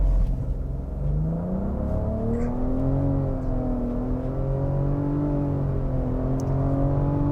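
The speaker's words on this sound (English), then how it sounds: "let's go ahead and see what we can get 0 to 60 wise in this vehicle" A 2023 Nissan Rogue Platinum with a turbocharged three-cylinder engine accelerates hard from a standstill in sport mode, its engine tone climbing steadily through gear changes as a smooth, sustained drone heard from inside the cabin.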